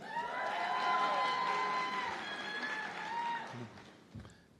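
A crowd at a nursing school white coat ceremony applauds new graduates with a sustained wash of clapping and some cheering. Voices ring over it before it fades out.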